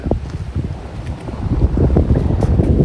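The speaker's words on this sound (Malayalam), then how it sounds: "നല്ല വെയിലുണ്ട് പക്ഷേ നല്ല കാറ്റുണ്ട്" Strong wind buffets the microphone in a loud, continuous low rumble that builds toward the end, with no voices, on a sunny day near tall buildings in Pattaya, Thailand.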